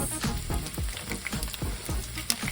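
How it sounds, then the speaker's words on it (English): Fennel pieces browning and caramelizing in a hot pan on the stove, with a steady close sizzle and repeated small crackling pops throughout. "we're going to let the fennel brown on the stove until it kind of caramelizes"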